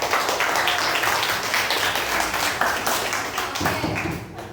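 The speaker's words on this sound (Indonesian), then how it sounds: "Tepuk tangan buat Nani." A group applauds steadily throughout, dense clapping from many hands that fades slightly near the end.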